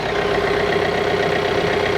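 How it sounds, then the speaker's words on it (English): A John Deere 4044M compact tractor with a 400E loader idles steadily up close, a continuous low diesel rumble with an even hum and no other sounds. "show you all those same operations again, this time with the engine running"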